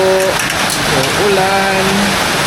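Heavy rain pours down in a steady, dense hiss while voices talk over it.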